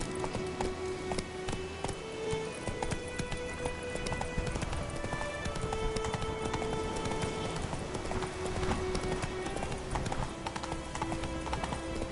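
Roach, the horse in The Witcher 3, clip-clops along with a steady rhythmic beat of hooves under a background music score, continuing throughout.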